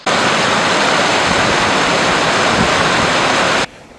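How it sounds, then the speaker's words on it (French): River water on the Faro/Vina thundering down more than 30 metres onto rocks in the savanna, a loud, dense, unbroken roar that fills the scene and then cuts off abruptly near the end. "où l'eau tombe avec fracas sur des rochers à plus de 30 mètres, créant des vagues successives"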